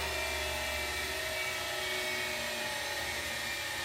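An electric Tesla drive motor swapped into a 1973 Ford F100 pickup spins up, giving a steady high-pitched whine with a low hum underneath, continuous and fairly close.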